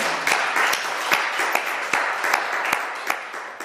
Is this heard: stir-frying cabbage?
no